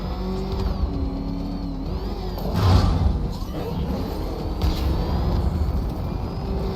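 Batmobile engine in Batman Arkham Knight, a continuous loud mechanical roar and whine that swells briefly as it revs, with shifting tonal hums over a deep rumble and no clear talk.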